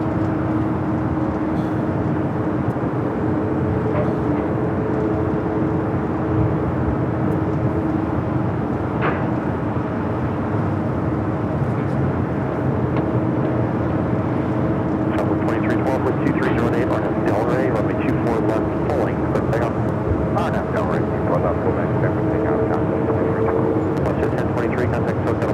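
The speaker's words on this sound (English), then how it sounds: "Next arrival is Southwest flight 793, coming from Oakland is 737 at 700." A Southwest Boeing 737 airliner arrives at LAX, its engines a loud continuous roar that swells slightly in the second half, with talking over it.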